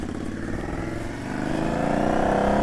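A 2019 Indian Scout Bobber motorcycle accelerates hard under a handful of throttle, its engine note climbing steadily and growing louder over a few seconds, close and with no talking.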